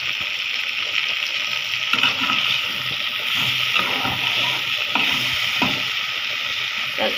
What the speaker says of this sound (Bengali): এই তো বেগুনগুলি ভাবে আমি তেলে ভেজে নিব